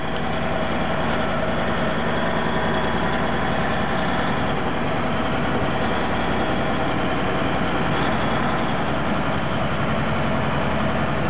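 A tractor-trailer truck's diesel engine drones steadily and loudly at close range while driven slowly in first gear, a continuous low rumble with no breaks.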